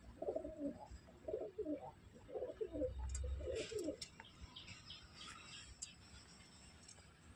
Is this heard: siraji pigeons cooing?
yes